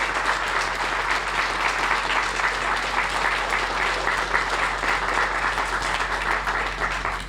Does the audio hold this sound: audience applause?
yes